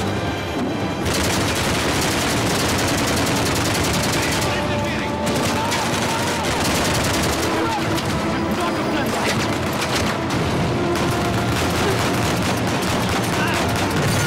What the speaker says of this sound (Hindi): वो बाइक से भी गोलियां चला रहा है।